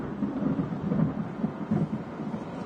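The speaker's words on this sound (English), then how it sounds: "Listen to that thunder, guys." Low rolling thunder from a thunderstorm, a steady deep rumble with slow swells that fills the whole stretch, heard alone with no voices.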